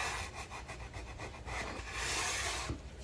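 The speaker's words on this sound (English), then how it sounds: "just take it at an angle and lightly sand that inside edge" Sandpaper wrapped around a wood block rubs along the inside edge of a Mesh Roller ruler, a close raspy scraping in quick rhythmic strokes, then a longer continuous pass.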